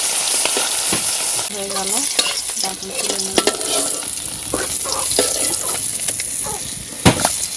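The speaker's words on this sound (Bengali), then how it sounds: "কয়টা কাঁচামরিচ আর পেঁয়াজটা তেলে দিয়ে লবণ দিয়ে দিলাম" Green chillies and onion fry in hot oil with salt on an outdoor veranda, a steady loud sizzle broken by scraping stirs and a sharp clatter near the end, with no talk.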